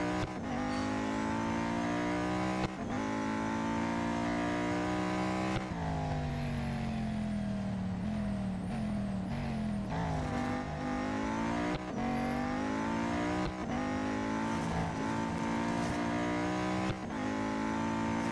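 A Venom F5 race car in Real Racing 3 screams at high revs through repeated gear shifts, each climb in pitch broken by a brief drop, loud and unbroken throughout.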